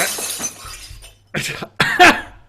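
Glass smashed against a forehead during a live show, two sharp bursts of breaking and shattering close by, loud and separated by a short pause, with a little background murmur.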